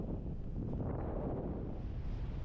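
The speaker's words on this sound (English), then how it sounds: "It's getting a bit windy again now, so just got to be a bit careful." Wind buffets the microphone of a paraglider in flight with a low, steady rumbling roar that continues without a break.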